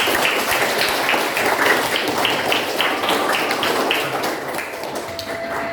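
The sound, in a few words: class clapping hands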